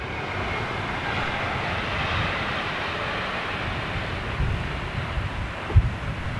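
An airliner on a runway, seen far down the strip, produces a steady, loud broadband engine roar mixed with wind rumble throughout, with a brief sharp thump near the end.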